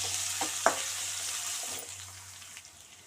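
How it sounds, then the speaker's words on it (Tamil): Mustard seeds and garlic frying in hot oil, a soft steady hiss with a few distinct pops and a clink early on, fading gradually. "கடுகு நல்லா பொறிஞ்சிச்சு பூண்டு போட்டுப்போம்"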